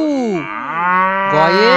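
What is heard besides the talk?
cow mooing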